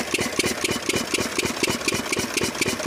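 An irrigation pump engine running on gas from an LPG cylinder chugs in a fast, even, rattling rhythm, loud and close, with no speech.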